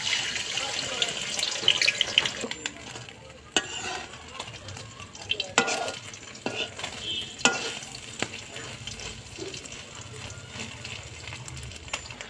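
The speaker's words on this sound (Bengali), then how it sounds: "তেল গরম হচ্ছে, এর মধ্যে ডিম দেবো" Beaten eggs frying in hot oil in a wok, a steady sizzle broken by sharp clicks and scraping stirs, with watery splashes mixed in.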